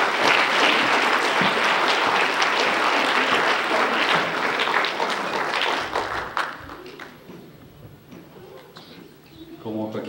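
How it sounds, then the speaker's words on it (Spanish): Warm applause at a sweet fifteen party as guests clap for couples heading out, dense and steady for several seconds before thinning into scattered claps, with voices in the background. "Celebramos con un aplauso la marcha de ellos."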